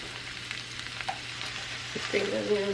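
Coleslaw mix and mushrooms frying in a pan and being stirred, a steady sizzle with a few light scrapes that thickens toward the end as a voice begins speaking.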